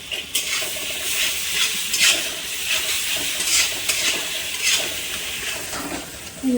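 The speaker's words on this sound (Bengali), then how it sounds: "তেলের মধ্যে এই ক্যাপসিকাম ভাজছিলাম তার মধ্যে দিয়ে দিলাম" Spice paste added to capsicum frying in hot oil in a home kitchen, giving a steady broadband sizzle with scraping stir strokes throughout, moderately loud and with no voices.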